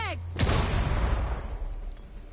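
A grenade detonates in Rainbow Six Siege, a sudden heavy blast followed by a crackling, rumbling decay, with brief game noise just before it and a fading low tail.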